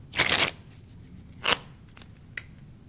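A deck of playing cards shuffled during a close-up street magic trick: a long riffling burst, a second shorter riffle about a second later, then a faint final snap, close and loud with no talk.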